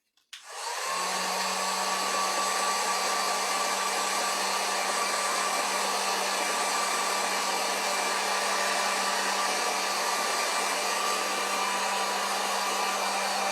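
A hair dryer blows on craft pumpkin shelf sitters, switching on with a quick rise and then running as a steady, loud, close whoosh with a constant motor hum, no voices.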